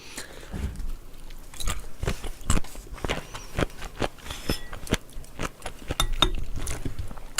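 Someone bites into and chews boiled bossam pork with cartilage bone, giving close, loud crunches and wet chewing in an uneven series of sharp cracks with no speech.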